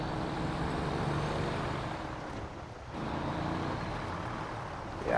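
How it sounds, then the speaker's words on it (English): A Ziks 605R truck engine in the video game SnowRunner, running with tire chains on slippery ground, gives a steady, loud, deep drone that eases briefly midway and then returns to full strength, with no talking. "Yeah, I do enjoy the sound effects of this truck. It sounds really meaty."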